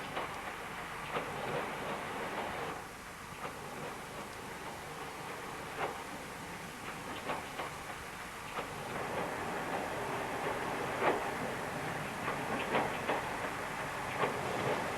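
Passenger train running on a North Devon main line, a steady rumbling roll with faint rhythmic clicks of wheels over rail joints throughout, heard from aboard at moderate distance with no talk.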